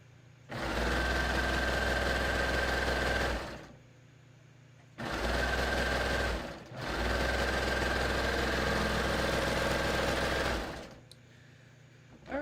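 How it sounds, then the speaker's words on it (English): A sewing machine stitches a tee shirt sleeve in three steady runs, with short pauses between them. The motor whirs loudly and evenly, close by, with no one speaking. "I'm just going to sew this"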